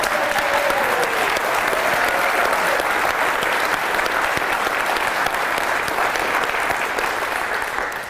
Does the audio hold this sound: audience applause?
yes